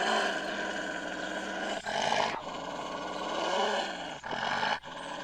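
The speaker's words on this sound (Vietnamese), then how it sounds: "Wolf." A wolf growls in a continuous deep, raspy snarl with a few brief breaks, sustained and fairly close.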